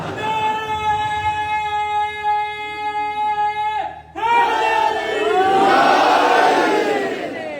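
A large crowd at a religious celebration of the birth of Ali in the Kaaba, first a long sustained chant of voices, then a loud roaring swell of massed chanting and cheering.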